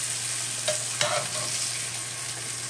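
Eggs and pork belly bacon frying in a pan, a steady sizzle with a couple of light stirring or scraping touches, close and continuous with no talk.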